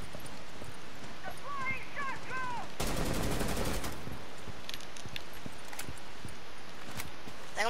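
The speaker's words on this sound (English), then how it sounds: "He's shooting at me." Rapid automatic gunfire bursts in the video game Rainbow Six Siege, a dense stretch of shots lasting about a second amid steady game noise, with people talking around it.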